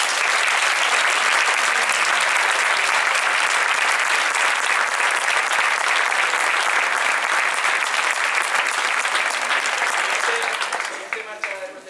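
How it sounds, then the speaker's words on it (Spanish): Sustained applause from a concert audience greeting a band's director, dense, loud and steady for about ten seconds before tapering off at the end. "Así que si está por ahí Juan, un aplauso para él"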